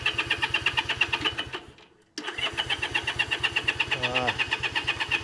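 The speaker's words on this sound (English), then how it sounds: "let's give this sucker a go" A Honda Dream motorcycle that had sat unused for 14 years cranks with a rapid, rhythmic starter chatter. The sound cuts out briefly, then resumes close and steady, and a short voice is heard near the end.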